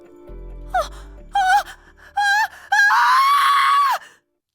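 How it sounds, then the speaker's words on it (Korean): A woman screams at a human body specimen exhibition, in several loud rising bursts that end in a long sustained shriek, with groaning and gasping breaths between them. "비명을 지르며 털썩 주저앉아 버린다"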